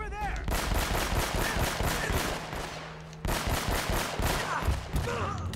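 Rapid automatic gunfire from the video game Uncharted crackles in dense, sustained bursts, loud and close, with a brief pause before a second stretch of firing.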